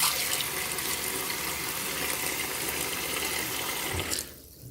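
Tap water runs steadily into a kitchen sink while raw chicken legs are rinsed. The rushing stream is close and continuous, then cuts off abruptly near the end.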